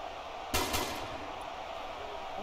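Gunfire from Keanu Reeves in the battle game Ultimate Epic Battle Simulator II: a sharp burst of two or three quick shots over a steady background din, then a fading rumble.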